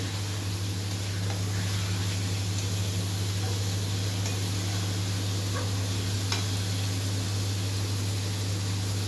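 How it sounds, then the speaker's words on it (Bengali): Potatoes sautéing in fish masala in a pan, a steady close sizzle and hiss with faint stirring scrapes throughout, under a constant low electrical hum and no voices. "আলু দিয়ে একটু কষে নিচ্ছে ভালোভাবে।"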